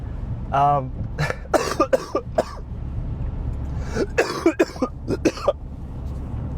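A person coughs several times in quick bursts, close to the microphone, after a short vocal sound, with a throat clear mixed in.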